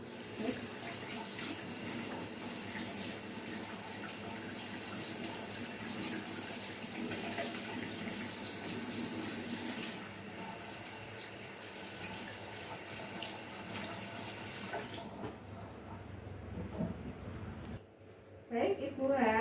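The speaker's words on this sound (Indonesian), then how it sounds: "saya mohon izin untuk melakukan cuci tangan terlebih dahulu ya" Running tap water pours steadily for about fifteen seconds as hands are washed before a clinical exam, then stops, with a voice speaking over the flow.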